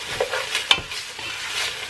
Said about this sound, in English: I'm going to saute that just until the onion is translucent.